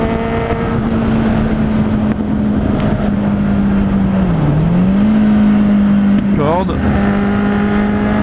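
A Kawasaki Z800e motorcycle engine drones loudly and steadily under heavy wind rush, its pitch dipping briefly and then rising again as it accelerates.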